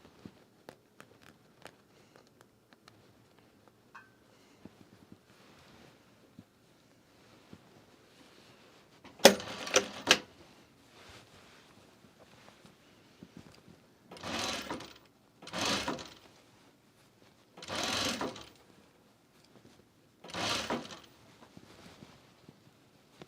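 A sewing machine runs on fabric in several short separate bursts of buzzing stitches with quiet gaps between, preceded by a sharp clatter and soft handling noises.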